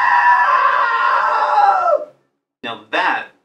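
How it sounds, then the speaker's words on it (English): A long, loud scream in the video game What Remains of Edith Finch, followed by two shorter shrieks after a brief pause, close and piercing. "Now that was a great scream."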